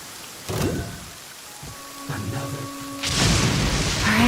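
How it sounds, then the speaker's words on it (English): Rain and thunder in the video game Roses and Muskets: steady rainfall with booming thunder rolls, the loudest surging near the end, mixed with a few sustained game tones, no talking. "Come with me. Let us find shelter from the rain."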